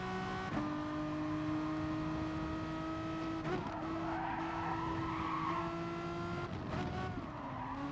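Car tyres skid and squeal under hard braking in Gran Turismo Sport, a Renault Megane race, with long sustained tonal screeches over steady engine drone, shifting pitch as the car slows and grips again.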